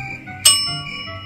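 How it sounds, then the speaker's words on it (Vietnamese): A single bright bell ding rings out clearly in a quiet setting and fades away over about a second. "Có bạn đánh chuông chưa?"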